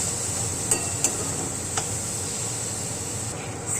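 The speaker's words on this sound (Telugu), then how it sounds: "సో 2 మినిట్స్ ఫ్రై చేసుకుందాం." Onion and capsicum fry in oil in a pan with a steady, close hiss and sizzle, broken by a few sharp clicks of a utensil against the pan.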